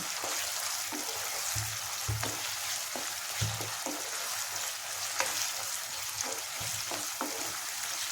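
Onions fry in hot oil for a crab curry, giving a steady close crackling sizzle with occasional soft scraping stirs and small pops.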